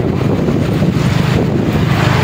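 Strong wind buffets the microphone with a continuous low rumble and roar, loud and close, with no other sounds standing out.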